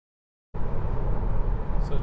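Steady broadband road and wind roar inside a 2021 Tesla Model 3 Long Range AWD cruising at 140 km/h on a windy day, beginning abruptly after half a second of silence and holding a constant loud level.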